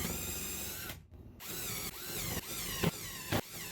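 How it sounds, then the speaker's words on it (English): A power drill whirs in several short bursts, pausing briefly between each run as it bores shelf pin holes into the wood of a cabinet side, close and loud. "I'm going to drill 1 in my finishing one so I don't go too far"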